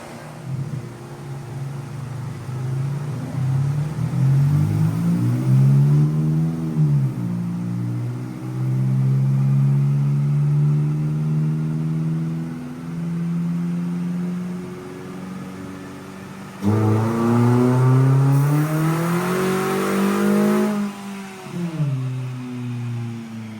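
A grandma's Hyundai car on a dyno with nitrous, its engine droning up through two long rising revving pulls with a drop and pause between them, loud and close.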